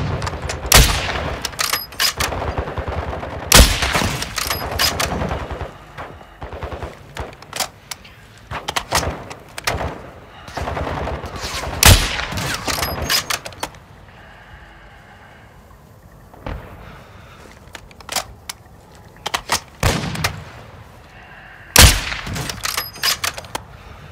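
Scattered gunshots and short automatic bursts ring out across a Call of Duty Warzone match on Ashika Island, some close and sharp, others fainter, with quieter stretches between exchanges.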